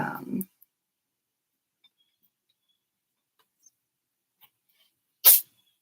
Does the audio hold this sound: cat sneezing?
yes